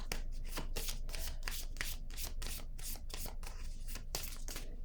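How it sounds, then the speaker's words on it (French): Tarot cards shuffled by hand, a rapid, continuous run of papery riffles and slides at close range, steady and fairly loud with no talking. "je vais piger une autre carte"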